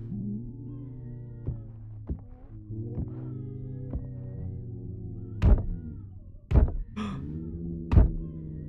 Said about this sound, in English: Why would it be banging on the cabinet?